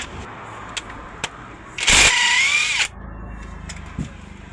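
A power tool spins out a bolt during a timing gear check on an engine, one loud whirring burst of about a second with a rising whine, set between quieter clicks and taps of work.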